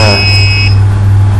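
A buzzer on an RFID door lock sounds a loud, steady electronic tone when a wrong card UID is scanned, heard alone over a low hum.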